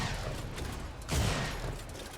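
A close-range sniper rifle shot in Unreal Tournament cracks out as one sharp, loud blast that stands out against a continuous backdrop of arena gunfire.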